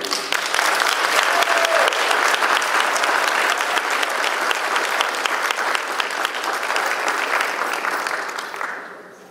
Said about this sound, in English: Please join me in giving a huge thank you and round of applause to Jamie Cameron.